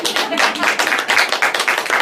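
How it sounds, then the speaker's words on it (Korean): An audience claps together in applause for the country's wealthy at a lecture, a dense steady patter of many hands for about two seconds, close and fairly loud. "대한민국의 부자들을 위해서 박수 한번 보내줍시다"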